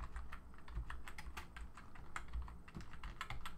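Rapid clicking of computer keyboard keys while a layer is renamed in Photoshop Elements: a quick, fairly close run of uneven keystrokes over a soft background hiss, with no talking.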